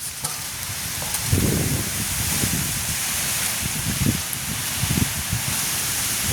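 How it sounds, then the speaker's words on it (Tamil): Wind gusts during steady rain in an outdoor village setting, a broad continuous hiss with soft swelling rushes and patters, no voices. "மழை பெய்கிற நேரத்தில் காற்று அடிக்குது இப்போ"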